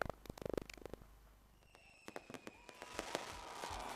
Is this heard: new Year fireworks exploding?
yes